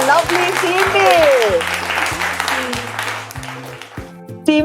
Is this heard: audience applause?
yes